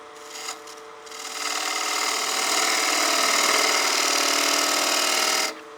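A wood lathe spins a bowl blank as a 1/2-inch spindle gouge cuts into it, giving a steady, loud scraping whir that rises after a brief start and holds for several seconds before stopping abruptly.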